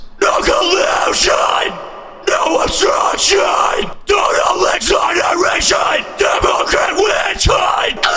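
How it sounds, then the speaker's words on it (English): Screamed metal vocals are processed with a big room reverb and a delay effect. Harsh shouted phrases come in bursts, each trailing into echoing tails and short gaps between lines. "basically this just adds reverb and delay, and it'll sound something like this"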